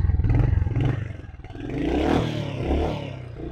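A Royal Enfield Hunter motorcycle engine revving up and settling, a loud nearby rumble that rises and falls over a few seconds with some mechanical clatter.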